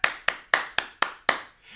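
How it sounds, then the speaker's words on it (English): Six sharp, evenly spaced hand claps ring out close by in a steady rhythm during a children's music class, with no talk. "I would like you to clap your hands."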